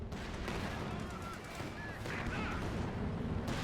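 Artillery barrage in a World War II real-time strategy match, with continuous dense booming and crackling gunfire at steady loudness under a battle soundscape.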